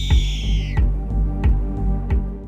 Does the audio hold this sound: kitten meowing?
yes